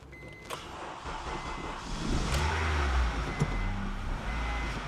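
An abandoned Acura RSX engine struggles and revs unevenly, with a rough low rumble that rises partway through, plus some close mechanical clicks and a faint whine.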